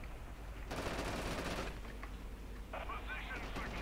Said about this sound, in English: there's a machine gun active south of our position